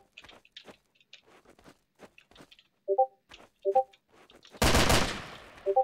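Gunfire in a one-on-one shooter video game: scattered small clicks and taps, then a few bursts of shots around the middle and a loud, dense volley near the end, followed by another shot.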